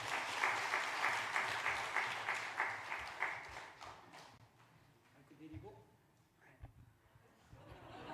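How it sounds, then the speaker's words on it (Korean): A church congregation at a Sunday service applauds, a dense wash of clapping that fades after a few seconds into quieter room noise, scattered knocks and faint voices. "박수하겠습니다."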